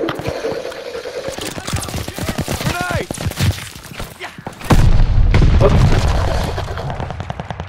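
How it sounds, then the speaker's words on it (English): A stun grenade goes off in the shooter Call of Duty Vanguard during a multiplayer Domination match: a sudden loud, heavy blast about two-thirds through, following scattered gunfire and brief voices. "Throwing stun grenade!"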